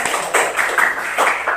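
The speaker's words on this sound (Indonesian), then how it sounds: "Tepuk tangan dulu." Students in a classroom clap together in a quick, rhythmic burst of close hand claps, about five or six distinct beats in under two seconds.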